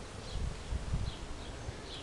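A steady, low buzzing hum of many honey bees close by at a hive, continuous and droning with slight swells in loudness.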